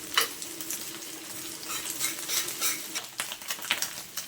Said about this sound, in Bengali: তো ডিমটা আমি লাল লাল করে ভেজে নিলাম